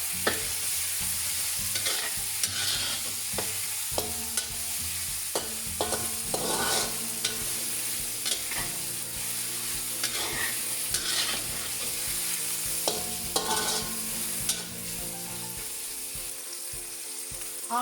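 Tomatoes, capsicum and fresh chilies sizzle with chicken in a pot as a utensil stirs and scrapes steadily, with repeated clinks and knocks over a constant loud frying hiss.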